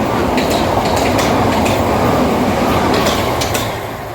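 Southern Class 377 electric train at a railway station, a loud, steady rumble and roar of the train close by with faint clanking, easing slightly toward the end.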